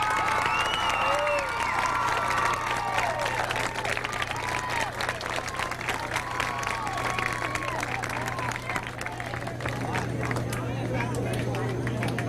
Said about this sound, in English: Let's give the Tennessee State champions and our runners-up one more big applause